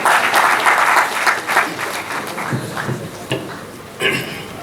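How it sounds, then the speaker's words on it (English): Audience applause at an international management and entrepreneurship conference, a steady wash of many hands clapping that thins toward the end, then briefly swells again. "Please, a round of applause for them."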